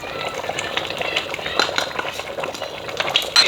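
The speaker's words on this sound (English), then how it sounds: "You have to stir." Yam porridge with crayfish and scent leaf is stirred in a pot, a continuous thick bubbling and scraping swirl up close with occasional utensil knocks against the pot.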